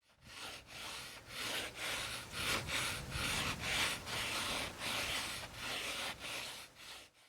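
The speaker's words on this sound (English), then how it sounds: "Now I'm going to go ahead and sand them down." Freshly cut wood pieces being sanded by hand, making a rhythmic rasping back-and-forth rub of about a dozen strokes, close and moderately quiet, with no speech.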